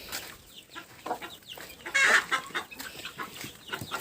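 Hens and chicks cluck repeatedly nearby, with one louder squawk in the middle and softer chirps and rustling around it.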